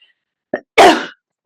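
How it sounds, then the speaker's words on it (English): A single sneeze from a person lying on their back in a relaxed yoga pose, a short nasal intake followed by a loud, close burst that trails off, with a brief breath sound before it. "It's hard to sneeze when you're lying on your back."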